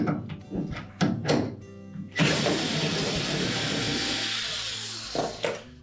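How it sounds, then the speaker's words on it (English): Bolts holding a Whirlpool refrigerator's bottom door hinge to the cabinet are loosened with a ratchet: a few close clicks and knocks, then a long, dense stretch of steady mechanical noise, with more short clunks at the end. "we'll remove the bolts that secure the hinge to the cabinet"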